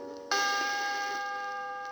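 A bright bell-like chime signals a page turn on a 1979 children's book record of Peter Rabbit, one clear sustained ring that starts suddenly and slowly fades.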